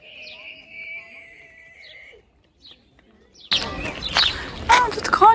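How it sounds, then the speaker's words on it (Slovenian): A horse at a family farm by a river gives a long, clear whinny at first, followed by a pause, then a burst of closer rustling and chirpy calls with a voice mixed in. "Tudi konje imajo, hodo."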